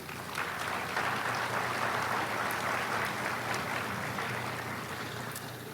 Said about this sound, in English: Ladies and gentlemen, please, a round of applause for Louisville Slugger.